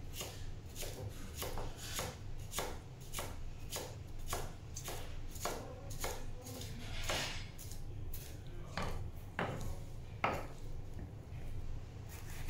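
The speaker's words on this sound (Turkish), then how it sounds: "Soğanı doğradıktan sonra Charleston biberimizi de doğruyoruz." Rapid, irregular knife chops through Charleston peppers on a cutting board, close and crisp, with occasional scraping and a faint low background hum.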